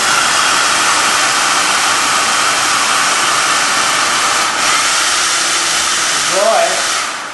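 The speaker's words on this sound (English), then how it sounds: "I use this hair blower to" A hair blower runs steadily and loudly up close, drying a freshly polished, alcohol-cleaned specimen with a constant broadband whoosh throughout, plus a brief tonal blip near the end.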